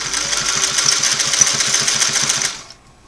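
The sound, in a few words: Singer 503A sewing machine sewing a twin-needle straight stitch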